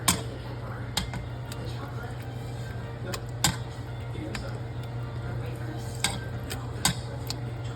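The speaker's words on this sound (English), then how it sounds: "Okay, so I'll give that another stir." Green chili tuna casserole is stirred in a pot with a utensil, giving soft scattered ticks and scrapes over a steady low hum, quiet and intermittent.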